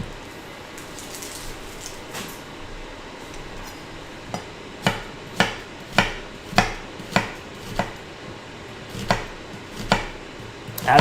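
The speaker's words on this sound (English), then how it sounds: "So we're going to do half a red onion, mince it pretty fine." A knife mincing half a red onion on a cutting board, with a steady series of sharp, close chops that start sparse and then come in a quick, regular rhythm.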